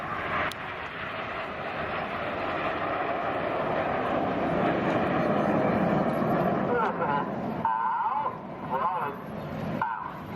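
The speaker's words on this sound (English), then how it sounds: "here come the 4 jets of Jippo around the headland for a manoeuvre" Red Arrows display jets flying past a seaside headland, a loud, sustained broadband roar that swells and holds for several seconds, then eases with some fluctuation near the end, with no talk over it.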